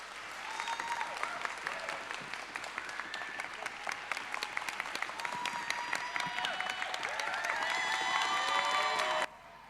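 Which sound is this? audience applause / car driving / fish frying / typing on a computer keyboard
audience applause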